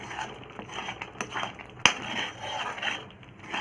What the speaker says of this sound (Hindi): बस लगातार घुमाते रहें इसको।